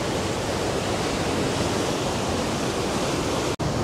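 Rushing water at a waterfall near Mysore, a loud, dense, continuous roar of heavy flow that fills the scene without pause, with no voices.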